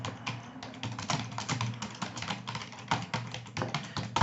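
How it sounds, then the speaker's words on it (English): Rapid clattering keystrokes on a loud computer keyboard, a continuous run of sharp close-up taps with no voice. "trying to type something in the chat on Zoom and you hear this"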